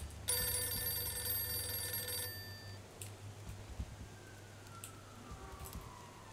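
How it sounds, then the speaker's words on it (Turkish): A telephone rings in the video game Mafia II, a bright trilling bell for about two seconds that then cuts off, leaving faint room noise and soft clicks. "Telefon çalıyor."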